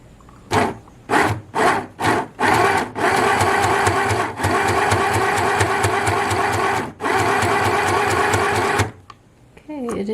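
A compact portable sewing machine stitches fabric with a loud, close mechanical whir, first in several short bursts, then in long sustained runs with one brief break, before stopping.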